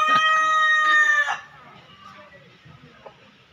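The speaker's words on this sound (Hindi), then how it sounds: "चार गो शायद है काला मुर्गा।" A black rooster crows loudly and close for about a second and a half, its harmonic call ringing out before fading into quiet background rustle and faint distant sounds.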